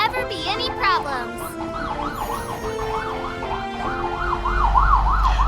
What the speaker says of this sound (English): I think there's an ambulance that just passed by.